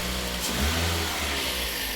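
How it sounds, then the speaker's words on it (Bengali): A Toyota Hiace 2000cc VVT-i engine idles smoothly and steadily at close range, with a low continuous rumble and a slight swell partway through. "আমরা গাড়িটা আপনাদেরকে স্টার্ট করে দেখাবো গাড়িটার ইঞ্জিন সাউন্ড কন্ডিশনটা কেমন"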